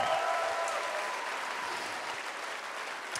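Concert audience applause at a live music session, a crowd clapping steadily and loudly, easing slightly in level as it continues.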